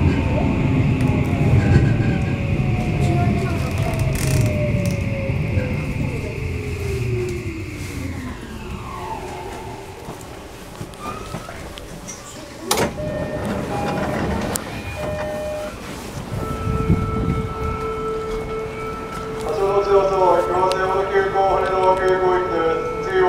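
A Toei 5500 series eight-car train departs Keikyu Tsurumi station with a droning rumble, falling motor whine and a sharp clank, then rising electric tones as it gathers speed, under station voices.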